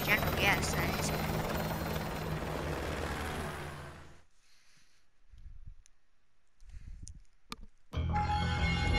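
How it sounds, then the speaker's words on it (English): A helicopter in Call of Duty Modern Warfare 2 roars loud and close with a heavy, chopping rotor wash for about four seconds. It then cuts out, leaving sparse game effects and voices talking. "I'll brief you on the chopper."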